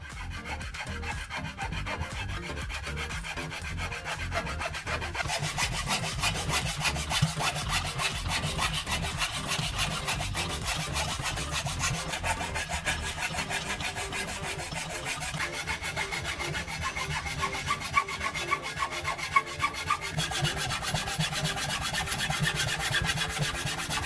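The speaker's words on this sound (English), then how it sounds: "Use a handsaw and cut slowly along those lines." A handsaw cuts slowly through a wood block clamped in a vise, giving steady back-and-forth rasping strokes that carry on close and even for the whole stretch with no talk.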